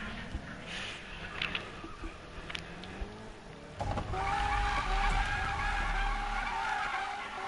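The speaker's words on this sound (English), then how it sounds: "Yo, I got an Aventador." A Lamborghini Aventador drives and skids, with faint distant engine and tire noise giving way to a louder sustained squeal and engine roar from about four seconds on.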